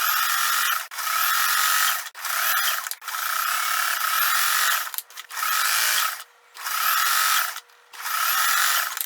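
A sewing machine stitches a folded fabric casing on a blouse in repeated bursts of a few seconds each, a fast whirring hum separated by short pauses.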